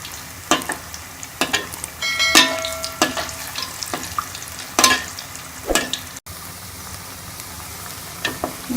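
Lauki (bottle gourd) koftas fry in hot oil, browned on both sides, with a soft continuous sizzle broken by sharp clinks and scrapes of a utensil against the pan, fairly close and without talk.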